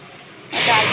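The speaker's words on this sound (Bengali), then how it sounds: "এবার ডালটা আমরা ঢেলে দেবো," Lentil dal poured into a hot pan of fried pointed gourd gives a sudden loud hissing rush halfway through a brief moment, after a quiet start.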